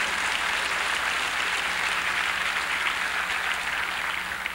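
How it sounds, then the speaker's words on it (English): Steady audience applause at a 1996 Trinidad calypso Hall of Fame ceremony, a dense, even wash of clapping from a large crowd lasting several seconds without speech. "Give him a nice round of applause."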